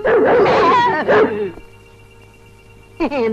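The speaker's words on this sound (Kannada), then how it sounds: "ನಾಯಿ ನಾಯಿ." A dog lets out a burst of high, yelping barks and whines at close range, pauses briefly, then yelps again near the end over a low room hum.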